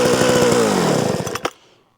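A Sachs Dolmar 133 chainsaw engine runs loud and rough, its pitch sliding downward as it winds down, then cuts out abruptly into near silence.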